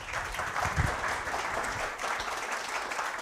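Audience clapping at a tech talk event, a dense steady patter of many hands filling the room throughout, moderately loud and continuous.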